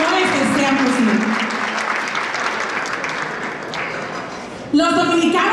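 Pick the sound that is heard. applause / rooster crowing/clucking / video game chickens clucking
applause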